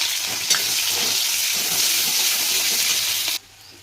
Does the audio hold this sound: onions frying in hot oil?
yes